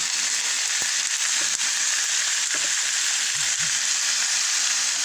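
Chicken breast frying in a pan, a loud, steady sizzle with light crackling throughout and faint scraping of stirring underneath.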